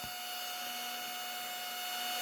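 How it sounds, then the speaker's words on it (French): A small electric fan on a Tamiya Racing Fighter DT-03 TT 1/10 RC car build runs with a steady whirring hum and a high tonal whine, constant and close, with no talk. "il y a là aussi le petit ventilateur. Alors ça, je vais le laisser tourner un moment."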